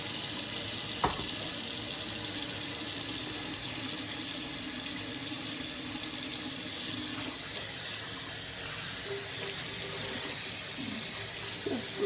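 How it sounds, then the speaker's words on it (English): Tap water runs steadily into a kitchen sink while tinned mackerel is rinsed under it, a continuous close hiss with no talk over it. "just rinse the mackerel off."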